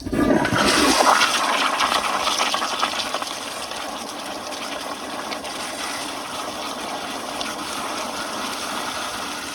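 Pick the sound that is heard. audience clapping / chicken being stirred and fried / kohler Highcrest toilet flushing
kohler Highcrest toilet flushing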